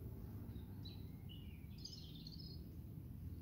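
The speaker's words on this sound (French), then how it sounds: "On peut entendre les petits oiseaux chanter." Faint, thin chirps and short twittering notes from small birds in a calm forest drift over a steady low background rumble, sparse and distant.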